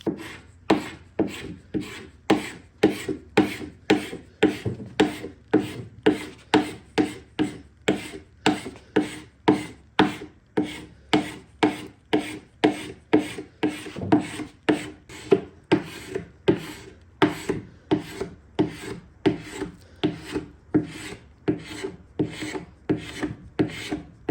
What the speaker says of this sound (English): So I do my first pass with my carbide scraper